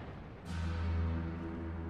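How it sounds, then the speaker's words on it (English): A massive shipboard explosion as the British battlecruiser HMS Hood's aft magazine is hit by a shell from the Bismarck, a deep rumbling boom swelling suddenly and rolling on loud, with no voices. "There was a huge explosion."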